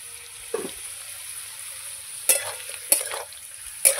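Potatoes fry in a pan with a quiet, steady sizzle, broken by four sharp clinks and scrapes of a utensil stirring, close by.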